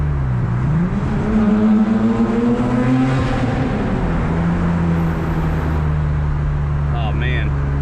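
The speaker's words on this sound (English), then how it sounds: "we get a little tunnel pull here" A Nissan Skyline R33 GTR pulls hard through a tunnel, its engine droning loud and steady as the pitch climbs, with booming echo and a voice talking over it.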